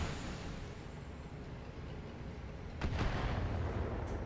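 Artillery fire landing on a Rhino fire support tank in the BattleTech game, a muffled rumbling barrage with a sharper burst of impacts near the end, steady and fairly low in level.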